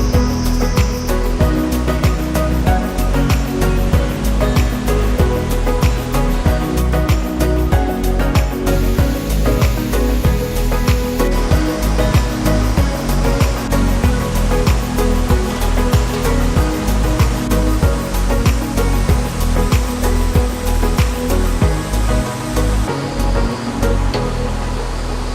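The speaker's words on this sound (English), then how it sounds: "So that's only the first awesome waterfall of the day." The Catarata del Toro waterfall in Costa Rica's Bajos del Toro roars as a steady, dense, unbroken rush of falling water, loud and close, with no voices.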